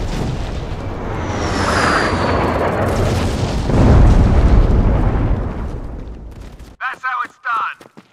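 Airstrike explosions in the Modern Combat 5 shooter game: a long, loud rumbling barrage of blasts and booms fills most of the clip, then cuts off into brief bursts of voice.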